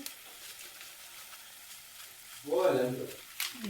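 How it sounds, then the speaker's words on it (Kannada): Tomato rice powder tipped into a hot pan sets off a sudden burst of sizzling frying that swells after a quiet stretch, then fades, with a brief flare of noise near the end. "ಟೊಮೆಟೊ ರೈಸ್ ಪುಡಿ ಹಾಕ್ಕೊಂಡ್ಬಿಡ್ತೀನಿ"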